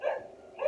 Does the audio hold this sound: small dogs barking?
yes